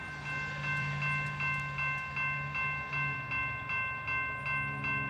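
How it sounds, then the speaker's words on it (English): A BNSF freight train, a 70 mph intermodal Z train heading west on the Transcon's Emporia subdivision, rumbles steadily past with a rhythmic clatter of wheels over rail joints and sustained horn-like tones, loud and close throughout. "Here's another train."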